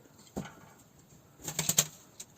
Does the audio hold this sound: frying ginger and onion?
no